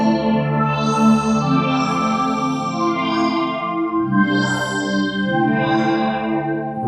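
Vaporwave synth pad from the Hype synth on an Akai MPC Key 37, lush and sustained with slow shifting chords, chorus-like wobble and swelling brightness, loud and continuous with no speech.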